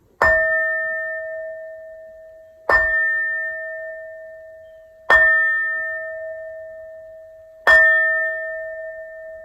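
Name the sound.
bell ringing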